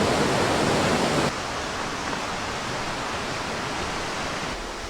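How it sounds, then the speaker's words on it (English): A waterfall on the West Highland Way in Scotland pours with a dense, continuous roar of rushing water, loud at first and then slightly softer and steady, with no voices. "First waterfall of the day."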